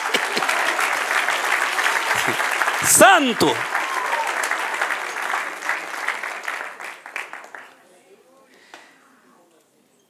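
Church congregation applauding and cheering in praise, a dense burst of clapping with a shouted exclamation over it that thins out and fades to near silence in the last couple of seconds.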